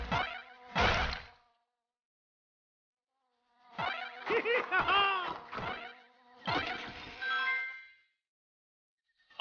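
Buzzing of a bee in the video game DuckTales Remastered, several loud close bursts of droning buzz separated by silent gaps.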